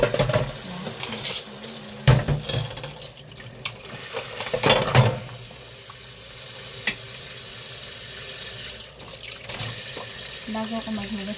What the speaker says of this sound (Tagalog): Bago ako maghugas ng plato mga guys, maghugas ko kasi hugasan ko yung aking mga gulay.